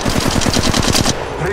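Rapid automatic gunfire in Apex Legends Mobile, a loud close burst of about a dozen evenly spaced shots that stops abruptly and leaves a faint game hum.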